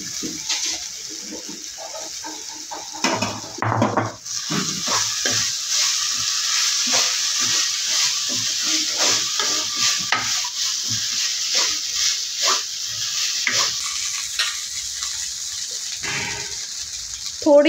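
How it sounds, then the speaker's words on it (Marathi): Flattened rice (poha) stirred and fried in a pan with turmeric, a steady close sizzle broken by repeated scraping and stirring strokes, with no talking. "आता आपण याच्यामध्ये पोहे टाकून घेणार आहोत।"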